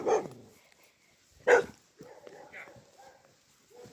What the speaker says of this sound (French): On va se faire attaquer par le chien à travers la haie.